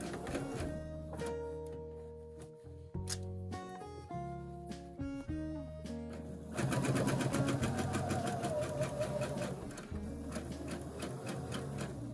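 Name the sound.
sewing machine back stitching a quilt binding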